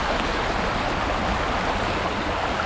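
A stream flows in steady, dense rushing wash with no breaks, heard close by and with no voices.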